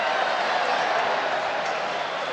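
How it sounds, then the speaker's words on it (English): A distant stadium crowd at a Fiji v Italy rugby international in Sicily, a dense, steady roar of many voices with no distinct rise or fall, heard briefly and alone. "Crowd is entertaining itself with a Mexican wave at the moment."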